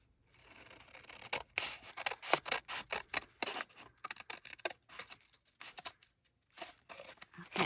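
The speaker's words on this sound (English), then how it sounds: "We could cut that one. That one could get cut." Scissors snip through wallpaper in quick, uneven bursts of crisp cuts close to the mic, with short pauses between runs and no talking.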